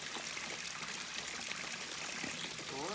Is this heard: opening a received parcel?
no